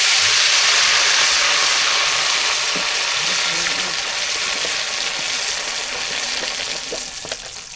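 Loud steady sizzle of potatoes frying in hot oil in a village kitchen, a dense hiss with bubbling crackle that eases slightly toward the end, with no talk.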